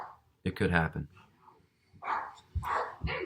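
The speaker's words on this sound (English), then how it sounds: "That's my dog making noise." A dog barks and yips indoors in short bursts, mixed in with a man's speech that dominates the sound.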